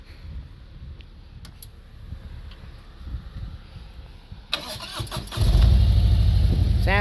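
A motorcycle engine on a mountain ride along the Blue Ridge Parkway: quiet wind-buffeted rumbling at first, then a sudden loud rev and a roar that carries on close and strong.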